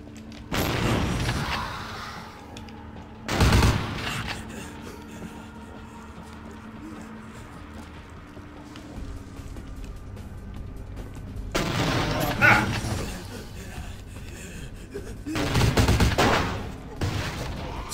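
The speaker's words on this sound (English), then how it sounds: "I'm liking this flamethrower." A flamethrower fires in the video game Vampire The Masquerade: Bloodlines, with loud roaring bursts that come and go in several separate blasts between quieter stretches of game noise.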